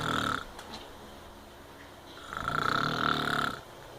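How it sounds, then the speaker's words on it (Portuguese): A man snores loudly and close by: a long rasping inhale, a quiet pause, then another drawn-out rattling snore. "O boi tá roncando."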